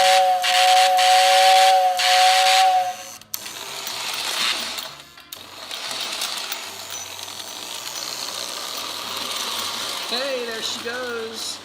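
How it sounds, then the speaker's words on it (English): A 70-year-old Lionel toy steam train sounds its whistle, a sustained tonal blast over hissing, followed by the clatter and whir of the running locomotive with brief voices near the end. "let's hear the whistle"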